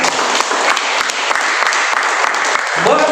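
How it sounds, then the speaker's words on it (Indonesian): Church prayer meeting audience clapping steadily, a dense, loud burst of applause with no talk, tapering slightly toward the end. "Yang setuju tepuk tangan buat kita"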